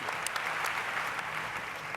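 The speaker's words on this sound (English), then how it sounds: "applause for Tom since he's out on the stage now" A crowd claps in a steady, even burst of applause, fairly faint and continuous for a couple of seconds.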